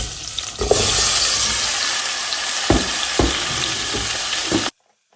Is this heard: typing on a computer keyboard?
no